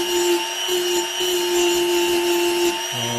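An electric power tool works a wooden gingerbread piece, giving a steady, loud whining hum with strong tonal drone for about three seconds, its pitch dropping lower right at the end; no voices.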